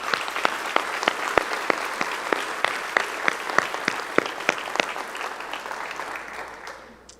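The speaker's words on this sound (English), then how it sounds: "I think that also deserves a round of applause." Graduation audience applauding in a large hall, a moderate wash of clapping with distinct individual claps popping out, gradually thinning and fading away near the end.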